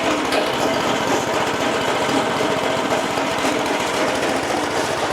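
A loud diesel engine rumbling steadily at idle on a construction site, constant and close, with a fast mechanical chatter and no voices.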